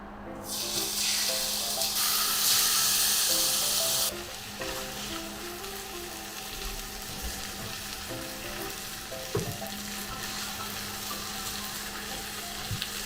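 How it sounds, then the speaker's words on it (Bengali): Marinated katla fish frying in oil in a pan, a loud steady sizzle that is strongest for the first four seconds and then settles into a softer continuous crackle with occasional clinks. "তেল দিয়ে নিচ্ছি মাছটা ভাজার জন্য"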